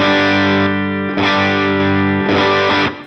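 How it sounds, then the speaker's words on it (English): Electric guitar through a Line 6 Helix, with the amp gain turned fully off while an overdrive pedal still pushes the amp into crunch; three loud, close strummed chords, each ringing out, alone with no talking. "Gain all the way off, we still have the pedal pushing the amp, and it's pushing it into more overdrive"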